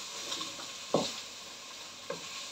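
A pan of green bean and meat stew sizzles softly while a spoon stirs it, giving two or three distinct scraping knocks over the steady low hiss; no one speaks.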